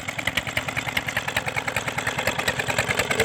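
A water-cooled Peter diesel engine chugs steadily at an even, fast beat, a close, clattering mechanical throb with a low rumble underneath, running alone without talk.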